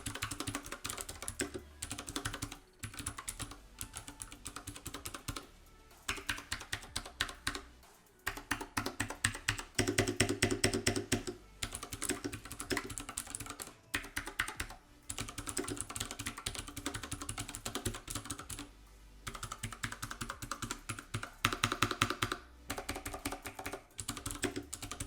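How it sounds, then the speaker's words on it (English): Rapid, clicky typing on an iQunix F96 mechanical keyboard fitted with Cherry MX Blue switches, a dense run of sharp keystrokes with brief pauses between bursts, close and steady throughout. "here's how the Cherry MX Blues sound on the F96"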